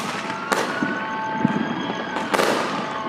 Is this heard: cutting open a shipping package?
no